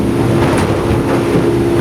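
A Yamaha F350 5.3L V8 outboard motor runs at speed around 4,100 RPM, a loud, steady low engine drone with rushing wind and water noise held evenly throughout, no voices.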